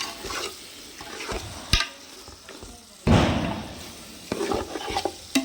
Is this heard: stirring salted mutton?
yes